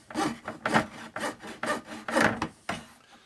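A hand saw cutting a piece of stock in a workshop, about six loud, close, rhythmic push-pull strokes with brief gaps, no talking.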